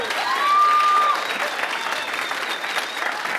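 A stand-up comedy audience applauds in a steady burst of clapping that swells and then holds, with a brief whistle near the start and no clear speech.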